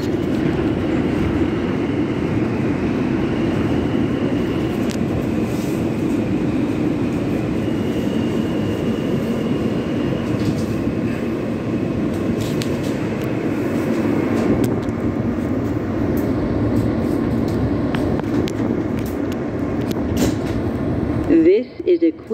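Steady rumble of an R160 Queens-bound G subway train riding between Flushing Avenue and Broadway, with a continuous low roar, faint squeals and rattles throughout, and a brief clunk near the end.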